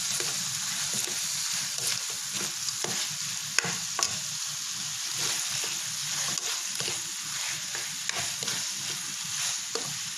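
Fried chicken being stirred and tossed in sweet and sour sauce in a hot pan, a steady sizzle with scraping and stirring clatter throughout, close and alone.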